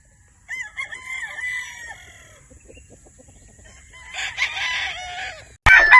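Gamefowl roosters crow several times on a game farm in Batangas, one call mid-distance and another loud and close at the end, with scattered clucks and a faint background hum.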